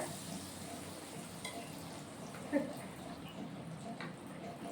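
Curry leaves sizzle in hot oil, giving a soft, steady crackling hiss at low volume with one brief clink partway through.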